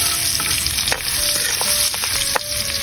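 Garlic sizzling steadily in hot oil in a pan, a continuous close frying hiss with occasional stirring clicks, no talking.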